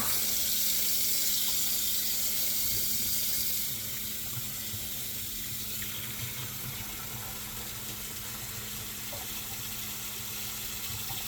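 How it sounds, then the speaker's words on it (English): Water running hard from a faucet in an RV, a loud steady rushing hiss that sputters with air bubbles in the line, easing slightly after a few seconds but continuing strongly. "Here comes the air bubbles."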